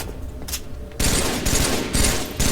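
Rapid gunfire in the video game Halo 3, a dense burst of loud overlapping shots that erupts after a quieter stretch and keeps rattling, with no speech.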